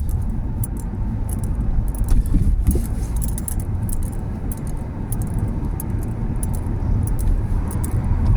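A car drives along with a steady, loud road and engine rumble, accompanied by a persistent rattling jingle of keys or loose items inside the cabin.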